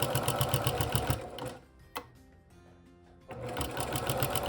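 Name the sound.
sewing machine stitching quilted fabric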